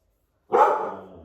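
A dog gives a single sharp bark indoors, close and moderately loud, tailing off quickly after a moment of silence.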